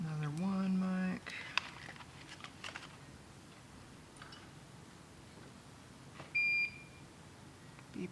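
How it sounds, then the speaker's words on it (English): Repeated electronic beeping from a glitch adapter board under construction: a sustained tonal beep up front, then a later brief high double beep, with light clicks and handling noise between. "Beep, beep, beep."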